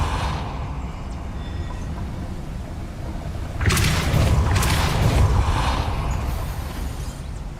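A Depulso spell cast in Hogwarts Legacy, heard as a sudden loud whooshing burst partway through that sustains as a broad rumbling, grinding surge over steady background noise.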